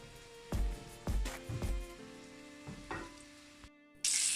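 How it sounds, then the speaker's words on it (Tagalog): Chicken feet coated in egg and flour fry in hot oil, reused from frying okra, with a steady sizzle broken by several sharp clanks and scrapes of a utensil against the pan, ending in a brief burst of louder hiss. "At yan, iprito na."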